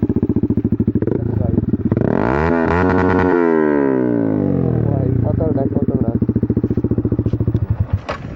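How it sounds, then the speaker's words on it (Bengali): A Yamaha MT motorcycle with a modified exhaust revs up close: a rapid popping idle climbs into a loud, rising then falling roar, settles back to a burbling idle and ends with a few crackles. "তোমাকে একটু এক্সজস্টের সাউন্ড শুনে দিই।"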